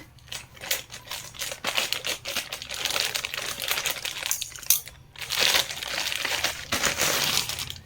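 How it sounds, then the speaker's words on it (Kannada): A plastic-wrapped package holding a hair crimper is handled and opened up close, making continuous crinkling, rustling and tapping clicks in bursts with a brief pause midway, and no voices. "ಇನ್ನೂ ನಾನು ಪ್ಯಾಕೇಜ್ ಓಪನ್ನೇ ಮಾಡಿರಲಿಲ್ಲ."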